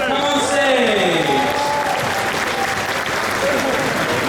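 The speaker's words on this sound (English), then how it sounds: "Let's give a round of applause to Tim Morrison." Loud audience applause fills a Comic Con Holland Star Wars Q&A hall, sustained and dense throughout, with a host's voice calling out over the clapping crowd.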